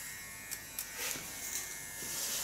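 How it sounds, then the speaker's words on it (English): An electric hair clipper buzzes steadily while cutting a woman's hair into an asymmetric pixie bob, a faint close hum with brief fluctuations as the blade moves through the hair. "I love to work with a clipper like this because it never hurries me up."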